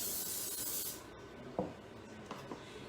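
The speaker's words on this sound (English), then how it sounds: "I'm just going to spray them with this extra virgin olive oil" Extra virgin olive oil hisses from a spray bottle in one steady, close spray lasting about a second, followed by a few soft taps and handling noises.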